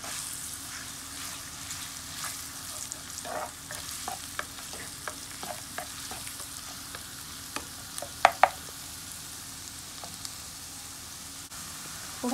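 Garlic sizzling steadily in a pan on medium heat for sweet chili sauce, a continuous crackling fry broken by occasional stirring scrapes and two sharp clinks near the end, with no voices.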